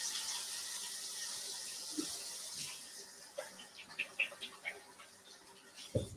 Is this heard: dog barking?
no